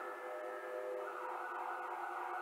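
An ambulance siren sounds outside in Boston near a fire station, a steady tonal wail that holds at moderate loudness throughout and rises slightly in pitch partway through, with no talk over it.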